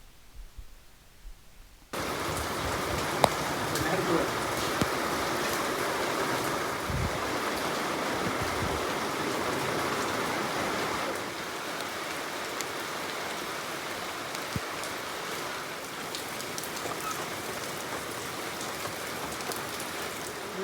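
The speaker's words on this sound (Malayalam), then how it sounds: "കൃത്രിമ മഴ പെയ്ച്ചാണ് വീടും മനസ്സും തണുപ്പിക്കുന്നത്" Artificial rain sprayed over a house to cool it patters and hisses in a dense, steady downpour, starting abruptly after a quiet moment and continuing loud and even throughout with no talk.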